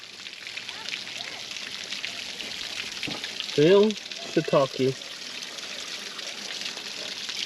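Water trickles steadily out of the damaged radiator of a Morbark 2400XL machine, a continuous soft hissing wash heard up close, with someone briefly speaking over it midway.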